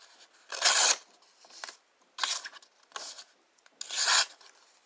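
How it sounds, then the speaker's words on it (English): Several rasping snips and slices through copier paper, close and crisp, coming in uneven bursts separated by short quiet gaps. "Cutting paper. We're using copier paper."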